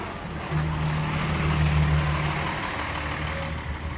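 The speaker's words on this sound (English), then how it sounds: "Traffic's kind of busy going south on Bathurst." Traffic on Bathurst Street in Toronto, heard while walking: a truck or car engine rumbles nearby with a low droning tone, and the wash of passing vehicles fills the background.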